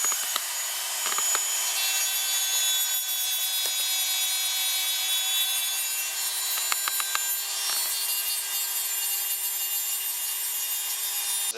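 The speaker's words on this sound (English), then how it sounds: "Just a little Dremel, a little sanding disc." Continuous high-pitched abrasive grinding from a Dremel with a sanding disc on plastic headlight ridges, steady and close, with brief scraping bursts and no talking.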